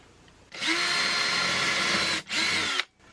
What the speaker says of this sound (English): I'm going to come over here and pre-drill for the inverter